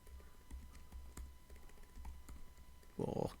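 Typing on a computer keyboard, heard as faint, irregular key clicks in a quiet room, ending in a louder, denser burst of keystrokes.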